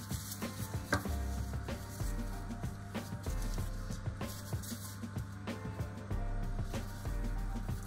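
A knife cuts three triangles from the centre of a circle of sweet bread dough, giving soft, repeated chopping taps against the board, fairly quiet over a low steady background hum.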